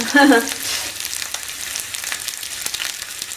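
Shallots, curry leaves and dried chilli hitting hot oil after mustard seeds have popped, with a loud initial hiss and a short tone that quickly settle into a steady softer sizzle with light crackles.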